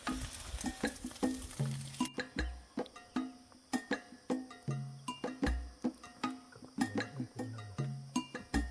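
Jengkol cooking and sambal being made over a fire in a pine forest, with steady sizzling frying and repeated stirring scrapes and clinks of a utensil against the pan, close by with no talk.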